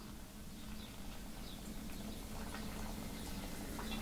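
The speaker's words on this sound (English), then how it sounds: "now it's just a matter of filling this up with the hot boiling water" Hot boiling water pours over ground Brazilian coffee in a filter, a steady close trickle and hiss with faint bubbling that runs throughout.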